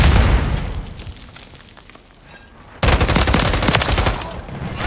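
Sniper rifle gunfire in an online shooter match, heard as several loud sharp reports and bursts, with a quieter stretch in the middle before dense, continuous gunfire resumes.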